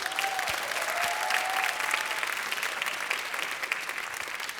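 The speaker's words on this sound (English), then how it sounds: "Give yourselves a round of applause." Steady audience applause from a large crowd at a high school spring choral concert, dense and continuous clapping throughout with a faint whistle near the start.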